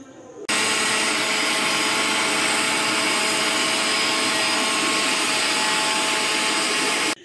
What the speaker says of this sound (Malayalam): അതുകൊണ്ട് നമുക്ക് ഫസ്റ്റ് തേങ്ങ ഇട്ട് അരക്കാം